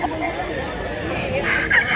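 A farm rooster gives a sustained crow nearby, its call rising and holding with faint voices and yard noise underneath.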